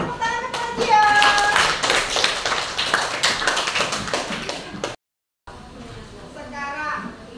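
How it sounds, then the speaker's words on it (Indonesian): Children's applause in a classroom, a burst of many small hands clapping for a few seconds with young voices chattering over it, then a short gap and a lighter patch of talk. "Beri tepuk tangan"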